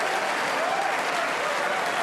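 A snooker crowd at the World Championship semi-final applauding a shot, dense sustained clapping filling the hall at a steady level, with a faint voice beneath it.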